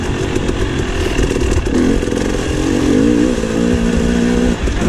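KTM 300 XC two-stroke dirt bike ridden on a wooded trail at NATRA in West Point, Tennessee, its engine buzzing steadily and loudly up close, rising and falling gently with throttle changes throughout.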